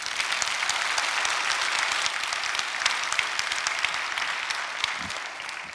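Steady, dense applause from a church congregation, loud and continuous for several seconds before tapering slightly near the end, with no speech over it.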